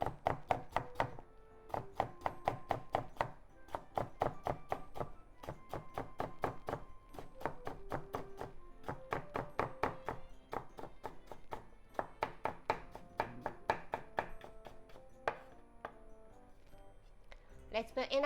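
A knife slices cucumber into thin strips on a cutting board with a steady run of quick, close, crisp taps that pause briefly between bursts, alone with no talk.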